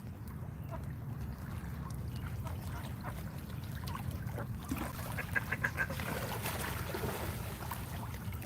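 Ducks on choppy water call faintly in a few short quacks midway through, set against a constant low rumble of wind and water.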